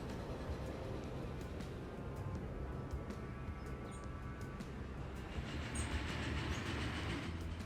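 Train running in the transport simulation game Transport Fever 2, a quiet, steady rumble of rolling wagons with faint rhythmic clicking on the rails, continuous throughout with no voices.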